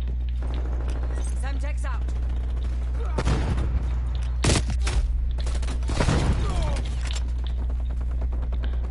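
A Tech 9 submachine gun fires in Call of Duty: Black Ops Cold War multiplayer, with rapid bursts of sharp gunshots and clinking alongside other gunfire, and voices over a constant game hum.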